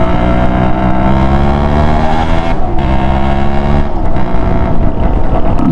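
A Suzuki X4 two-stroke motorcycle's exhaust drones loud and close, a steady buzzing engine note with slight shifts in pitch, riding along without pause.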